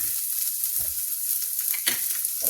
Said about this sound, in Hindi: अब इसमें हम डालेंगे प्याज,